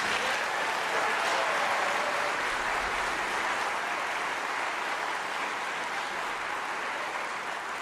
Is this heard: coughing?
no